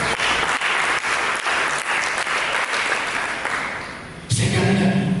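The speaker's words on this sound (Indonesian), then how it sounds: "Mari kita berikan tepuk tangan." Congregation applauding during a church sermon, dense sustained clapping throughout that dips briefly near the end then surges back loud.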